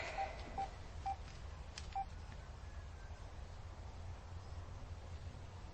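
A mobile phone is dialed in a quiet room. A few short, distinct keypad tones beep at uneven intervals over a faint background hiss.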